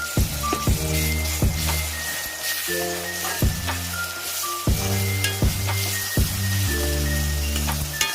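A ginger, garlic and green chilli paste sautéing in a pan for chicken curry gives a steady hissing sizzle throughout, partly masked by louder rhythmic background music, with no one talking.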